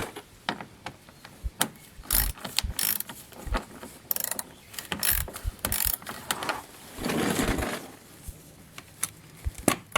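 A hand tool, likely a ratchet, removes 7mm screws from the bottom air cover on the front bumper cover of a Chevrolet Malibu, giving repeated sharp ratcheting clicks and mechanical clatter in irregular bursts, close by with no talk.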